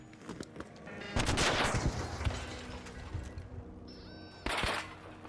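Wolfpack grenades striking a Vaporizer in the video game ARC Raiders, a loud rapid cluster of blasts and crackling impacts lasting a few seconds, then a brief electronic tone and one final sharp burst.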